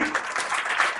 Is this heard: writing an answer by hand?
no